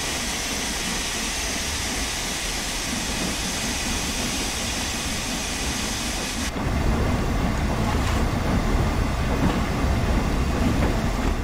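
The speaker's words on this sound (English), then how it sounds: "Now, we want to release the brakes, and voila, the train starts moving." A steady, loud rumble of an LMS Jubilee steam locomotive in Train Sim World that grows heavier about halfway through as it begins rolling after brake release, with a faint rhythmic clatter beneath.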